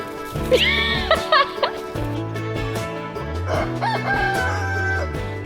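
A rooster crows loudly nearby, followed by a second crow, with clucking and other farmyard calls in the background.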